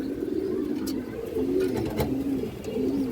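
A racing pigeon that has completed three-side 40 km races coos in several soft, low, rolling phrases close by, over a quiet background.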